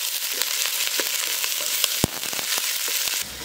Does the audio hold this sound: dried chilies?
yes